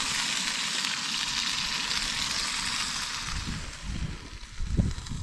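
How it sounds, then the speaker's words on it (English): Oil sizzles and crackles steadily in a pan over a camp stove on a winter truck-camping trip, a constant close hiss with a few louder pops near the end. "There's that sizzle I'm looking for"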